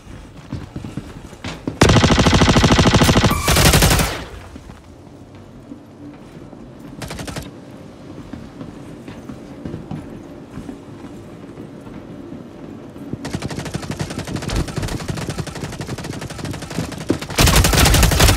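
A gun fires in the first-person shooter Star Citizen, with rapid automatic bursts that are loud at first and then give way to quieter stretches of steady repeated firing and game noise.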